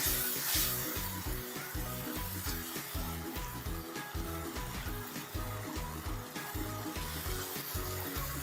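Eggplant for smoky baingan bharta roasts in a pan with a steady, loud sizzle and crackle, close up and unbroken throughout, with no voices over it.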